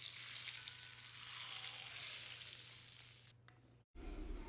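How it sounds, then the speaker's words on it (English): Hot oil poured over Ghanaian eggplant abomu with onions and fresh chopped tomatoes sizzles loudly and steadily for several seconds, then cuts off abruptly before a brief different rumble; no voices. "after adding the hot oil, and I know that you enjoy that sizzling sound"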